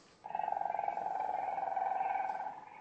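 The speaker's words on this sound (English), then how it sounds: "You can hear why he's the humming frog." A Western Australian humming frog gives a single sustained call, a steady buzzy drone lasting a couple of seconds, fairly close and alone.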